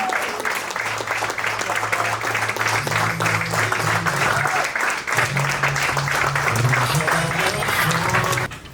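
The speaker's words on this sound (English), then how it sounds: "Let's keep those round of applause going while Dante gets our song up here." Sustained audience applause fills a conference hall at a healthcare CEO keynote, steady and loud throughout, with a low musical tone humming underneath before the clapping cuts off near the end.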